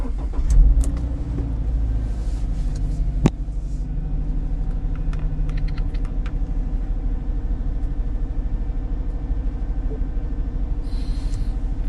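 A Subaru car engine starts up and keeps running, a steady close low rumble idling throughout with a brief sharp knock early on.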